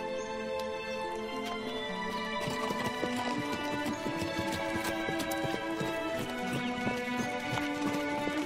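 Horse hooves clip-clop in a steady, fairly close rhythm, blended with a dense musical score.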